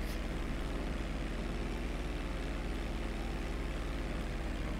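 A helicopter in the video game Grand Theft Auto V gives a continuous droning rotor and engine roar, steady and fairly loud throughout with no pauses.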